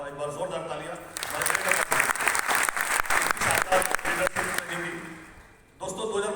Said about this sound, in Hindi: मैं थैंक्स करना चाहूँगा, एक बार जोरदार तालियां